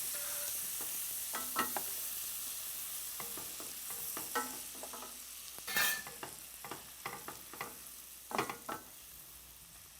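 Chopped onions frying in butter in a pan for risotto alla Milanese, giving a steady close sizzle broken by intermittent stirring scrapes and clinks.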